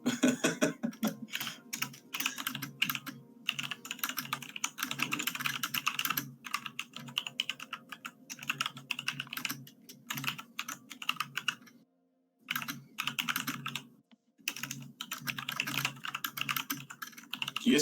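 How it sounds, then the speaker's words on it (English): Rapid keystrokes patter on a computer keyboard in quick bursts separated by short pauses, close and fairly quiet, with no talking. "Can you guys hear me typing?"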